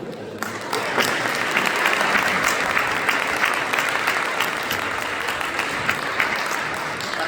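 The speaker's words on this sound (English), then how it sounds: "So can we have a big round of applause for them?" An audience at an Iftar dinner in a university great hall gives a big round of applause, loud and continuous clapping from a large crowd that holds steady and slowly tapers.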